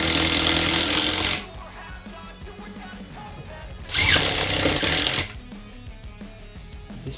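A Makita TD022D folding impact driver sinks a 40 mm screw into pine in two loud, harsh rattling bursts of about a second each, separated by quieter handling noise.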